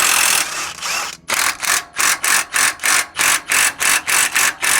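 A hand ratchet loosens 17 mm bolts on a Subaru Sambar during control arm bushing work. Close, rapid clicking comes in an even run of bursts after a short pause.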